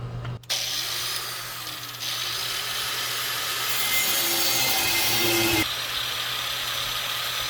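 Small metal bumps for a smoker firebox grate are cut off with a power tool, a loud continuous grinding rasp that shifts in pitch partway through and carries on without a break.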